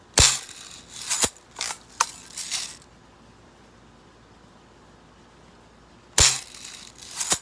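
A Red Ryder BB gun fires several times in a row, each sharp crack close and loud, in an irregular quick series, then a pause of a few seconds before two more shots.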